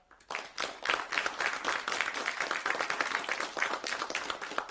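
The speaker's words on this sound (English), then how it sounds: "Those who believe no, please applaud." A town hall debate crowd breaks into applause, a lively, even clatter of many hands that starts abruptly and keeps going for several seconds, a little thinner than a full ovation.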